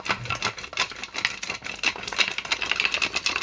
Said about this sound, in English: Where's my big trusty pepper grinder?